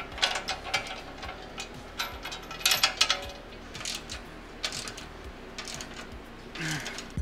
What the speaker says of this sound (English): Put the bolt in your socket and use an extension.